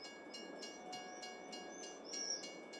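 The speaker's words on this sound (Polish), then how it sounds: "Jedzie, pociąg jedzie." A train passes in the video game Farming Simulator 22: a steady rumbling hum with regular rhythmic wheel clicks and a thin, high tone that rises slightly near the end, heard at a moderate distance with no talk.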